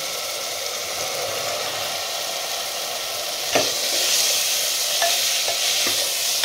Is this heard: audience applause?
no